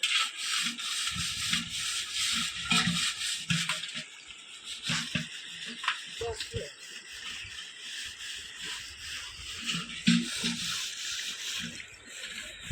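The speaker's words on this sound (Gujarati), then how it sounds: "એક ઘડો ઉટકી નાખ્યો છે હવે આપણે છે ને બીજો લઈ લીધો છે આ તાંબાનો છે" Copper and brass pots are scrubbed by hand at a riverside, with gritty rubbing strokes in an uneven rhythm, close and fairly loud, with faint water sounds around them.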